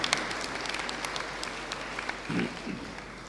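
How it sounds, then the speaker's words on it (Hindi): Applause from a congregation at a Christmas Mass led by a bishop in Varanasi, a steady, moderately faint patter of many hands filling the whole stretch with a slight swell near the end. "एक बार और जोरदार ताली बजा करके क्रिसमस के खुशी को व्यक्त करें"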